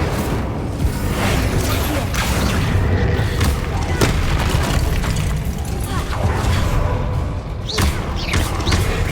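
Hogwarts Legacy combat with an Incendio fire spell: dense, loud booming blasts and thuds in a continuous barrage, with a player's voice shouting over the action.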